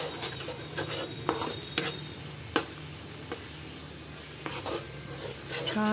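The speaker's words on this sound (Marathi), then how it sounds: "सर्व जिन्नस आपण छान मसाले फ्राय करून घ्यायचे आहेत." Spices for pav bhaji frying in a pan as a utensil stirs them, with a low sizzle under scattered metallic clinks and scrapes, close and moderately quiet.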